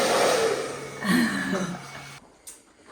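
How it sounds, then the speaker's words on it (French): A hair dryer powered by an ALLPOWERS S1500 portable power station blows with a steady airy whir, cutting off partway through, while a person talks over it. "Oh, ça il aime bien les sèche-cheveux."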